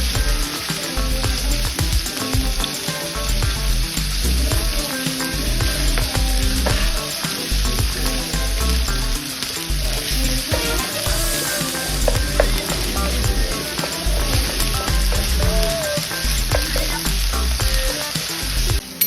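Pork stir-fried in a hot pan for a Thai long-eggplant dish, a loud continuous sizzle with scraping stirs and clatter throughout, close up with no speech.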